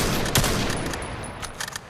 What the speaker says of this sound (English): It's a really versatile gun because the fire rate depends on your skill level.